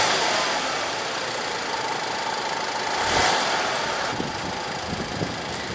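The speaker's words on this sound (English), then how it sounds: "So let me start it up and maybe you guys can hear the engine." Turbocharged four-cylinder engine of an Audi A3 idling steadily at close range, a constant mid-pitched hum with a faint ticking texture and a brief swell partway through, no talking.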